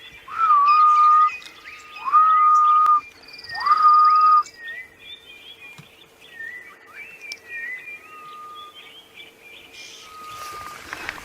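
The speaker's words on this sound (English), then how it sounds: "the grey-headed bushshrike" Three long, clear whistled notes from a grey-headed bushshrike, the ghost bird, carry through the early-morning bush on a sunrise safari drive. A softer chorus of other birds chirps afterward.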